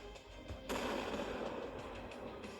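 A sudden loud blast from an explosion in a button-pressing video game bursts in after a quieter stretch, then holds as a dense, sustained roar for the rest of the clip.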